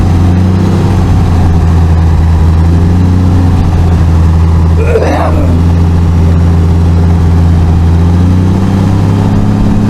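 An old vehicle's engine idles loudly and steadily at close range at an estate auction preview, a low, even rumble with a brief faint voice partway through.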